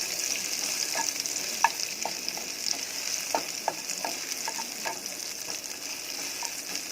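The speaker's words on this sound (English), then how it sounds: "In goes the red chili. This is the large chili. And just saute this until soft" A large red chili sautés in a pan for Balinese sayur urap, making a constant close frying hiss with scattered light stirring clicks and taps and no voices.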